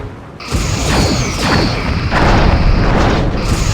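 Torpedoes slam into enemy shields in the space combat game Star Trek: Bridge Commander, a sustained loud roar of booming impacts and rushing whooshes filling the whole stretch.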